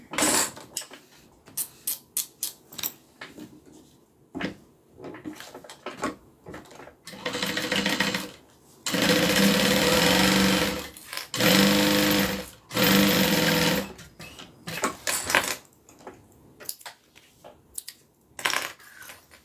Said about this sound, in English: now I'm going to stitch down the top, which is going to secure all three of these layers together